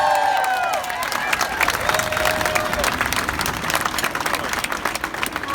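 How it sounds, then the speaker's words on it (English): Crowd applause and cheering for nurses at a Philadelphia healthcare rally defending the ACA, dense sustained clapping from a large gathering, with a voice speaking at the start. "Let's have a big hand for our nurses."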